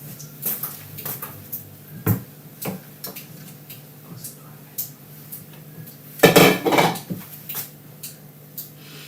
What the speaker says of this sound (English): I'm just gonna give it its proper stir.